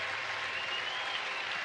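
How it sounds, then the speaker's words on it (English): A baseball stadium crowd gives a standing ovation, steady dense applause heard at a distance, even and unbroken for the whole short stretch. "a standing ovation from the crowd"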